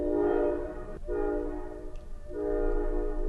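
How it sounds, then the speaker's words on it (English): A passenger train pulls into a station, sounding two long, loud horn blasts separated by a short break, with rumbling rail noise underneath. "The train's here."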